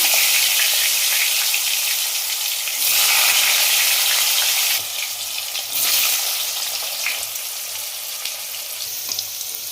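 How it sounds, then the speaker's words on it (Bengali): Potatoes frying in hot mustard-colored oil with turmeric in a kadai, a loud continuous sizzle that swells and eases as the pieces are stirred, heard alone without talk. "পরপর আমি এক একটা সবজি ভেজে নেব প্রথমে আলু"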